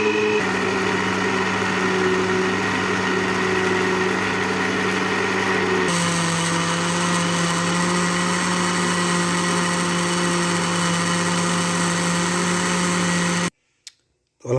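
A blender grinding dairy cream with cold water into homemade butter, a loud steady motor whine that shifts pitch once partway through, then cuts off abruptly near the end; no talking.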